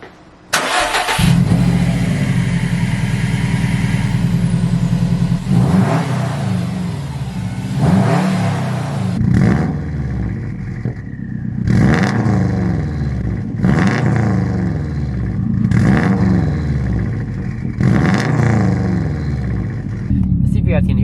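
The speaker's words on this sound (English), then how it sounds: "first startup with the intake." A Subaru WRX STI fitted with a new intake starts up, then idles loudly with repeated throttle blips that rise and fall in pitch, close and dominant over the whole stretch.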